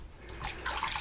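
Water runs over a pair of Whites boots as saddle soap is rinsed off, a short close splashing wash that grows steadily fuller and louder.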